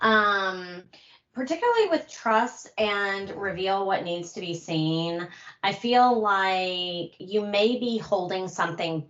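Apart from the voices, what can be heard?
No everyday noises stand out.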